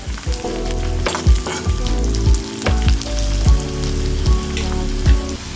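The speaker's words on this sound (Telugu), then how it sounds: "ఇందులోనే 3 ఎండుమిరపకాయలు, జీలకర్ర, జీడిపప్పు వేసి వేయించుకోవాలి." Dried red chillies, cumin and cashews fry in hot oil, a loud, close, continuous sizzle and crackle broken by regular scraping stirs of a spatula in the pan, with no talking.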